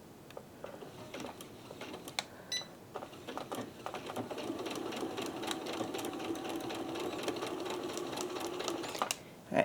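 A sewing machine stitches a trouser seam, starting with a few slow, spaced ticks and then running into a quicker, steady patter of stitches, close and fairly quiet.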